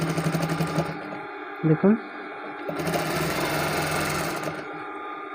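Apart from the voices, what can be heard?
sewing machine stitching piping onto a kameez side seam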